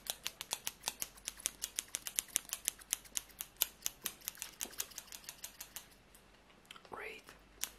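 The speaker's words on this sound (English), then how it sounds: "Scissors." Rapid, crisp snips of scissors cutting hair, a steady run of close clicks that pauses briefly near the end.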